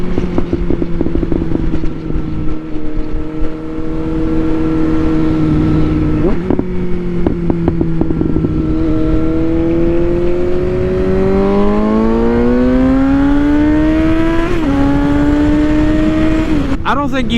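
A Suzuki GSX-S 750 motorcycle with a tuned engine runs loud and close, its smooth droning note holding steady, then climbing through rising revs with brief shift dips, while wind rushes underneath.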